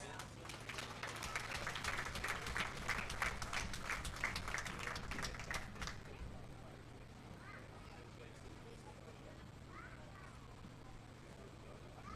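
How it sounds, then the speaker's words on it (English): Crowd at a county fair sheep and goat show gives a round of applause, fairly faint and distant, lasting about six seconds before stopping and leaving quiet arena ambience. "Crowd, as we do it, let's give them a big round of applause."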